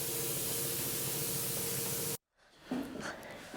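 Spray foam insulation hisses in a steady, loud broadband rush as it is applied to the ceiling and walls of a knife shop, then cuts off abruptly, leaving quieter room sound.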